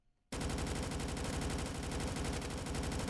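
Rapid automatic gunfire in an online game, a loud sustained burst of evenly spaced shots starting abruptly after a brief silence and continuing steadily to the end.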